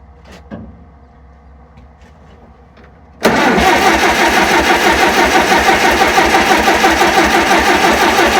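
A 72c10 tractor engine with a troublesome carburetor cranks and catches after a few seconds of faint ambient noise, then runs loud and steady close by with a rough, pulsing idle.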